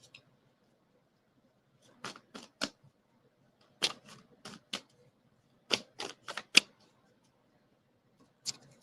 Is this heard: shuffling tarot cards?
yes